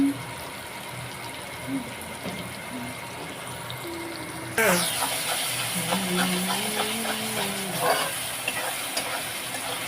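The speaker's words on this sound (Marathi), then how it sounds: "अद्रक लसूण कांदा टमाटर आणि कढीपत्ता मस्त मिक्स करून घ्यायचा" Ginger, garlic, onion, tomato and curry leaves sizzle and hiss in a hot pan, with a louder burst of frying as ingredients hit the oil midway, followed by stirring scrapes and steady crackle, a voice speaking faintly.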